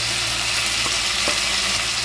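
Crumbled pre-fried fish roe pieces tossed into a pan with sugared vegetables for a mixed vegetable curry, giving a loud, continuous close sizzle with a couple of brief stirring scrapes.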